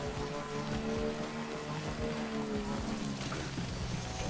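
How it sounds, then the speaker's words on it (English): Heavy rain in the video game Death Stranding pours as a dense, steady hiss throughout, with faint sustained tonal notes drifting underneath. "This is a lot of rain."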